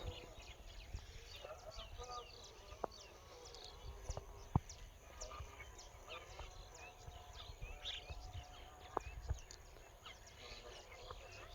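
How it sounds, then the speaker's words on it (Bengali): Rural morning birdsong, many small birds chirping and twittering at a distance against a quiet low background, with brief sharp calls scattered throughout. "চলেন একটু শব্দ শোনা যায় যে পাখির কিচিমিচির ডাক সকালবেলা কেমন শোনা যায়"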